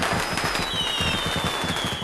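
A huge firecracker goes off inside a bar, giving a steady crackling, popping burst that fills the space at moderate loudness for about two seconds.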